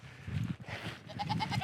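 Sheep on a small farm bleat repeatedly while being hand-fed, several wavering calls overlapping at close range with no talk.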